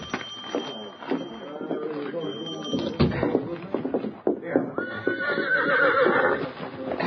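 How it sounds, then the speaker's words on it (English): A horse whinnies among clattering hooves and rustling, with a voice speaking nearby. "This is my horse. Steady, Victor. Steady, boy."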